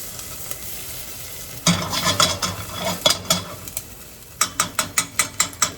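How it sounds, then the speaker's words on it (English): Tablespoon of ginger sweating in a hot pan for a curried lentil, cabbage and chicken soup: a soft sizzle under a run of sharp spoon taps and scrapes, sparse at first and then quick and regular near the end. "Now we're going to add our tablespoon of ginger. Sweat it nicely."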